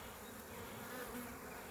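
Honey bees buzz around frames of a caught swarm that is being moved from a five-frame box to an eight-frame box, a dense, steady drone close to the listener and unbroken throughout.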